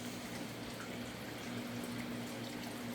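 Water runs steadily through a creek filtration setup, a continuous soft rushing and trickling with a low hum underneath, even in level and close by.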